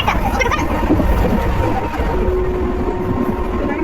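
A train runs along the track, heard from inside the carriage as a steady, loud rumble with continuous low roar and faint rattling, holding constant with no break and no clear talk over it.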